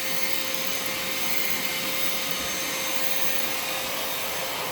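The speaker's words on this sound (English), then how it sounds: "I have been using this vacuum for 2 days." A Vacmaster 2.5 gallon, 2 horsepower shop vacuum runs steadily, giving a continuous broadband whine with a faint steady tone, close and loud with no voices.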